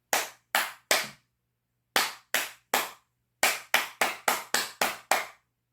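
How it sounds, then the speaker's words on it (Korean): Sharp hand claps by a church congregation in a three-three-seven rhythm: two groups of three evenly spaced claps, then a quicker run of seven, loud and close. "심심한데 337 박수를 한번 쳐볼까?"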